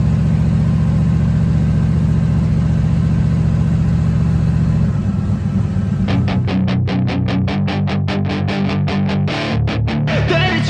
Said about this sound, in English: we're trying to get it revving